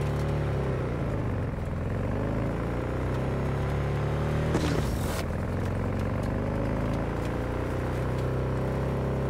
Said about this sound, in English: My bike is making horrible sounds.